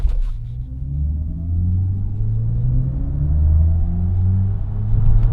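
Futuristic drive sound of a 2022 BMW i4 electric car in sport mode, composed by Hans Zimmer: a steady low synthetic hum with rising, gliding tonal layers that swell smoothly, heard inside the cabin with no talking.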